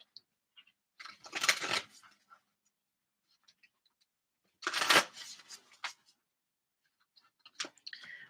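A Moonology oracle card deck is shuffled in a few short riffling bursts, crisp papery flutters separated by near silence.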